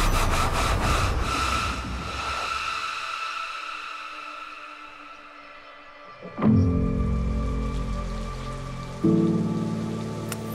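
Rain patters steadily across a Honkai: Star Rail trailer scene, a dense wash of drops under swelling music that drops away midway, then returns with deep bass hits.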